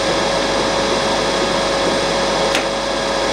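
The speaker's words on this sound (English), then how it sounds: "I'm using air to evacuate all the chips." Compressed air blows metal chips off a machined part in a workshop, a loud continuous hissing rush with a steady whine, staying level throughout with a brief extra burst near the end.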